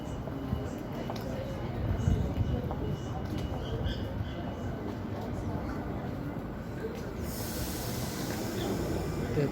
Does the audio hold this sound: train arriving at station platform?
yes